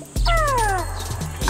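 A cat gives one clear, drawn-out meow with a falling pitch, close and loud, followed by a brief quieter sound near the end; no talking.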